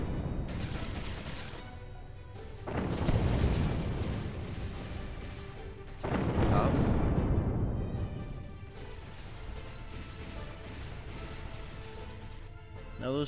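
Spaceship weapons pound a frigate in Sins of a Solar Empire, with heavy rumbling bursts of fire and explosions swelling in loud waves over a constant roar of battle.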